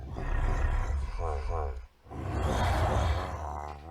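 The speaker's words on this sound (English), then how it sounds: "listen to those grunts and roars." The Minecraft Ravager's deep, growling roars and grunts come in two long bursts with a short pause between, loud and rumbling, with an undertone of honking.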